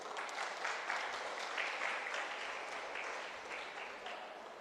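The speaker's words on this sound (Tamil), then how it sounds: "தட்டிடுங்க தட்டிடுங்க." Audience clapping at a Tamil literary festival talk, a steady dense wash of applause from a crowd that holds for several seconds without speech.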